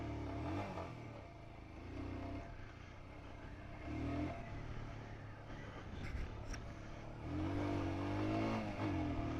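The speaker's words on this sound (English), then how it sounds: "So it's a nice little, got a bit of pep to it. Nice torquey engine." A Royal Enfield Scram 411 motorcycle with a torquey engine revs and accelerates on a road near a country lane. The engine note rises and swells in several pulls, heard close and fairly loud throughout.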